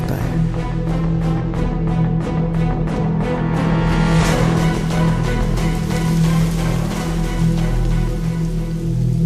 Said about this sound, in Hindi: उस शाम बहुत बारिश हो रही थी